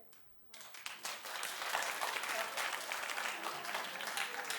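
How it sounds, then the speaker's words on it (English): Studio audience at a daytime talk show bursts into applause after a brief quiet start, steady dense clapping filling the room and holding at a fairly loud level to the end. "Clap if you think it's possible."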